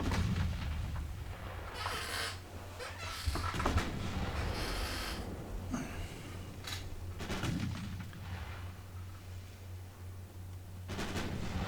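Main battery guns of warships fire in the naval game Ultimate Admiral Dreadnoughts, repeated heavy booms rolling at intervals over a constant low engine rumble and background sea noise.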